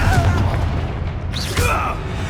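A spell blast from the Hogwarts Legacy video game bursts out as a booming explosion midway, preceded by crackling magical whooshes and a fading rumble afterward.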